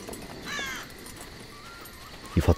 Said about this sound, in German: Vor allem hier klingt es, als ob wir ja direkt am Meer wären durch die Möwen.